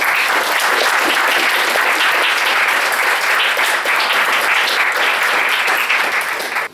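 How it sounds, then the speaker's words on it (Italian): Large audience applause welcoming a guest onstage at an Italian Japan Days 2019 fan event, a dense steady roar of clapping held loud throughout before cutting off abruptly at the end. "a cui facciamo un grande applauso, Davide Pigliacelli."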